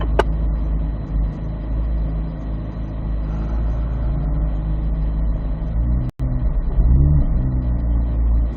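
A car accelerates out of the turn on a figure-eight driving course, its engine rumbling steadily and revving up loudly toward the end, with a brief dropout partway through.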